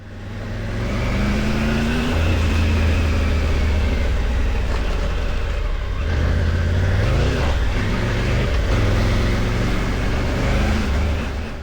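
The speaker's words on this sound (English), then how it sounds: "Engine on this bike is outstanding" A Triumph Tiger 900 Rally Pro motorcycle engine runs loud and close during an off-road ride, droning steadily with rising and falling revs and wind rush across the whole stretch.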